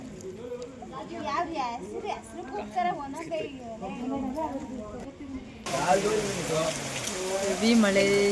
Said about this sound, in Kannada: ಹೆವಿ ಮಳೆ